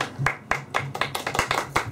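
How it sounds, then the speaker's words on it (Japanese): Sparse clapping from a small audience at a live music show, a dozen or so sharp claps in a loose, uneven rhythm over a couple of seconds. "拍手やって嬉しいわ"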